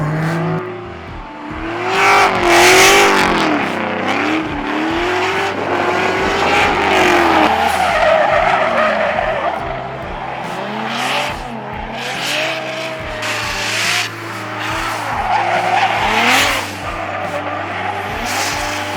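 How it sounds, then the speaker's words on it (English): Drift cars slide through a corner at a USDrift winter series drift day, with loud engines revving and bouncing off the limiter, long tire squeals and repeated passes at close range, with no talking. "We'll just see a car coming through in just a second, but this area is pretty active"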